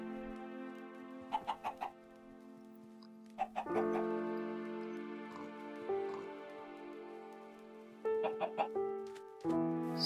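Chickens by a small lake in the Minecraft video game, repeated short clucks and bursts of squawking in clusters over a steady tonal game background, fairly clear and close.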